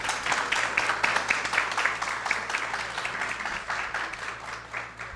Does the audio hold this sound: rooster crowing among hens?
no